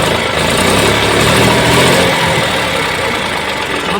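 A New Holland 3600-2 tractor engine idles up close, a loud, steady mechanical drone with a dense, even rattle that holds level throughout, no voices over it.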